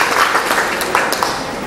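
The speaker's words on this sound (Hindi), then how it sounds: "एक बार जोरदार तालियां उनके लिए भी।" Audience applause at a residents' welfare association program, a steady wash of many hands clapping at moderate loudness throughout, with faint voices mixed underneath.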